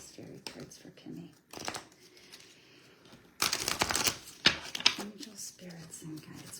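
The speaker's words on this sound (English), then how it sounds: "Let's pull one of these fairy cards for Kimmy." Fairy oracle cards being shuffled and pulled, heard as several bursts of crisp riffling and flicking separated by short pauses, with a person speaking softly between the bursts.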